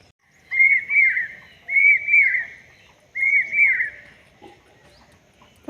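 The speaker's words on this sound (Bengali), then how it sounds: "পাখির আওয়াজ কেমন লাগছে" Birds call across village paddy fields on a foggy winter morning, making three clear, evenly spaced bursts of bright warbling chirps against a quiet background.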